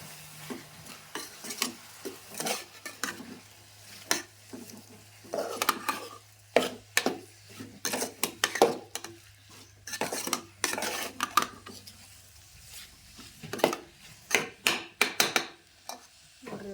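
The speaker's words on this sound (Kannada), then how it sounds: "ಇದೆಲ್ಲ ಹಾಕಿ ಇವಾಗ ತಿರುಗಬೇಕು" A utensil stirs raw potato masala seasoned with salt in a pan, producing repeated sharp scrapes and metallic clinks in irregular bursts over a faint sizzle, close by and with no speech.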